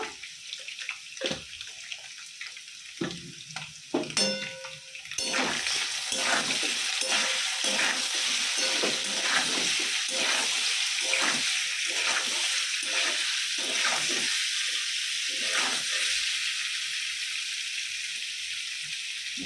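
Constant loud sizzling of greens frying in a pan with occasional stirring scrapes, preceded by a few seconds of quieter clinks and handling.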